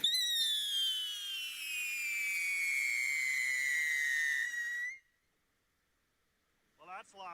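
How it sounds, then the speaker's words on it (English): A Happy Family Spring Fling two-minute fireworks fountain gives a loud, steady whistling screech that slowly falls in pitch for about five seconds, then cuts off abruptly into silence before a brief burst of another sound. "This is a 2-minute fountain by Happy Family"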